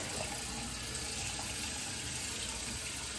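A tap runs steadily into a sink to rinse an alum block after shaving, a constant close hiss of flowing water with no break.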